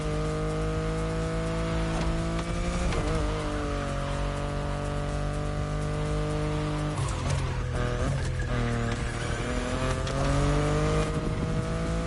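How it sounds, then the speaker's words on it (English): A BMW i8 sports car drives in the racing game The Crew Motorfest, its engine holding a steady loud drone, then shifting pitch midway as it accelerates, with bursts of tyre noise. "The BMW i8 is a car that stands out from the crowds."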